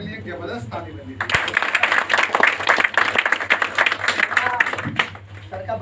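After a moment of talking, an event audience breaks into lively applause for a speaker. The clapping swells for several seconds while voices continue over it, then fades back into speech.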